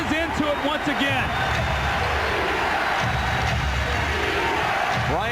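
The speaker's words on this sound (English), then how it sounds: "The crowd is into it once again." Spectators at a 2000 NBA Western Conference Finals playoff game between the Lakers and Portland Trail Blazers roar steadily throughout the arena, with shouts rising over the noise and a basketball bouncing early on.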